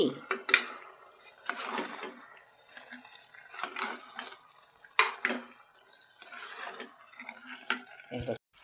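Chili powder stirred into a mutton and chana dal curry in a pot, with irregular scrapes and clinks of a spoon over a soft simmering sizzle, close and moderately loud.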